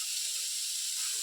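Onions hiss and sizzle steadily in a hot pan while cooking mutton do pyaza, a constant bright frying sound without any talking.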